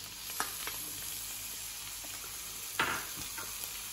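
Capsicum, ginger and garlic sautéing in a pan give a steady sizzle, with two or three sharper stirring scrapes rising above it and no voice.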